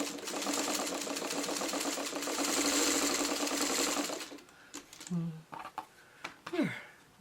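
A sewing machine stitches a curved seam with a steady, close, fast mechanical whir for about four seconds, then stops, followed by a few soft clicks and handling noises.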